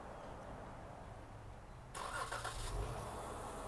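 A 2015 Dodge Charger SXT with dual exhaust fires up by push-button start: a quiet hum, then a sudden burst of engine noise as it catches and settles into a steady rumble, close by and with no talk.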